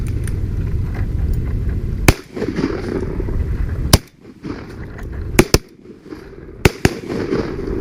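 Shotgun blasts ring out during a duck hunt on partly iced-over water: about six sharp, loud reports, some in quick pairs, standing out from a steady wind-like background rumble.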